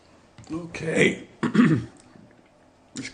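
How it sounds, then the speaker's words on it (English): One person clears their throat with a couple of rough, gravelly bursts, close to the microphone, followed by a brief quieter sound. "just clear my throat"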